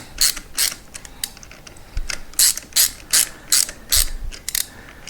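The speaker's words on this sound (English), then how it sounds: "we've got the torque bar preset down here." A torque wrench ratchets on a Honda Transalp 600 (PD06) motorcycle during a clutch rebuild. It gives loud, close bursts of rapid metallic clicking, about ten in a row, with short pauses between them.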